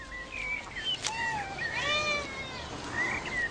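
Cats high on catnip meow repeatedly in rising and falling cries, fairly close and alone over a quiet background.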